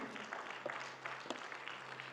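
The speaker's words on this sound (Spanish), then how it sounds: "Más fuerte ese aplauso al Rey de Gloria" A church congregation applauds together, a faint, continuous wash of many hands clapping that sounds distant and steady throughout.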